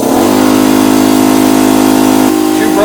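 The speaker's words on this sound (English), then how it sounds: "Let me get some power to that compressor real quick." An air compressor kicks on in a garage during a lift kit install, a loud, steady motor drone close by that holds for a couple of seconds and then shifts pitch near the end.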